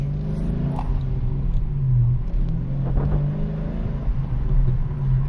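Car with an upgraded Barton shifter driving through a neighborhood on a test drive, its engine giving a steady, close interior rumble with slight rises in revs and no talking.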